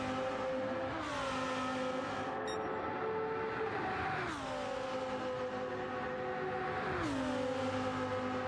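Sim racing cars run flat out along the back straight at Catalunya in a Corolla Cup and Lamborghini Trophy race, with engines screaming at steady high revs and pitch dips on gear shifts, loud and continuous.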